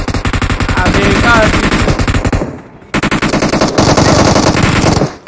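Rapid automatic gunfire from a PUBG Mobile match, loud sustained bursts of machine-gun fire that break off briefly near the middle and then resume, dense and close.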